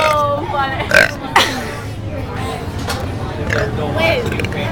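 Two loud, guttural burps come close together in a playful burping contest, followed by lighter voiced croaks as people chatter and laugh around them.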